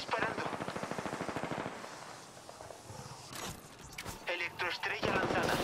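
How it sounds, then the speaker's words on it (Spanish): Rapid automatic gunfire in a battle royale video game, a fast rhythmic burst of shots up front, then scattered sharper shots and bursts after a brief lull, loud and close, with some voice chatter mixed in. "Me están disparando."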